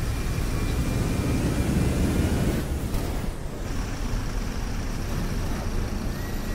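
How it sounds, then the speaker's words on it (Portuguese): A new bus engine in the simulator game OMSI 2 runs with a steady, loud broadband rumble. It holds constant throughout, easing slightly partway through, with no voices. "Tá com som de ônibus novo mesmo."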